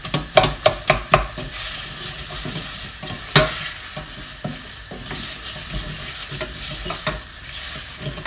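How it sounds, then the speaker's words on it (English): Shallots sweating in a pan for French onion soup give a steady frying sizzle, with several sharp stirring scrapes and knocks near the start and more scattered stirs later, close and moderately loud. "You're basically sweating down your onion."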